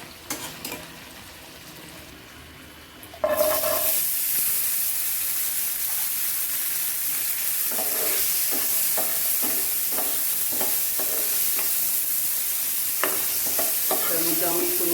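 Chicken sizzles steadily in hot oil in a pan. The frying begins abruptly and then holds a constant, close hiss, with occasional stirring clatter on top.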